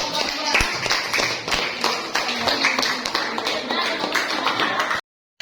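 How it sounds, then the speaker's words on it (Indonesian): A school audience clapping, brisk crowded applause that holds steady for about five seconds, then cuts off abruptly. "Tepuk tangan untuk"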